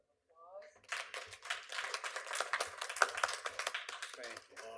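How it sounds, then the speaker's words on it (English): Applause at a library board of trustees meeting honoring outgoing officers: a brief burst of hand clapping from a small group, steady for about three seconds, with voices just before and as it fades. "So if we give them a little round of applause."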